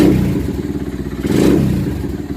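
A carbureted SSR Razkull motorcycle engine runs on choke after a cold start, with a close, loud, uneven idle that pulses and chugs with a slight rise and fall.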